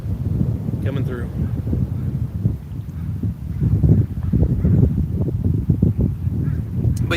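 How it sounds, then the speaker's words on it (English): Gusty wind buffets the microphone in a public park, a steady low rumble that surges in strength, with faint speech mixed in underneath. "Wind gusts coming through."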